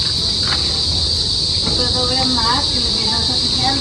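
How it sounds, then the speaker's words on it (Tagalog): Crickets chirp outdoors along a barangay road in the Philippines, a steady high-pitched insect drone filling the scene with faint scattered sounds and possible distant voices beneath it. "May kuliglig na po kaagad."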